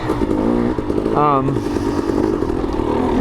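A 250 XC two-stroke dirt bike engine snaps open and revs sharply upward for a moment before settling back into a loud, buzzing drone, close and raw, with a voice faintly audible beneath it.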